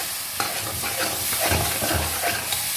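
Potato halwa stirred in a pan after ground green cardamom goes in, close repeated scraping strokes of a spoon over a steady frying sizzle.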